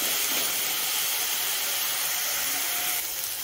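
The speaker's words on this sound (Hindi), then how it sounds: "अब इसे हम 1 मिनट तक और फ्राई करेंगे ताकि अदरक लहसुन का जो गंध हो वो अच्छी तरीके से निकल जाए" Ginger garlic paste fries in a pan with a steady, bright sizzling hiss that holds evenly close up for a few seconds, then eases slightly near the end.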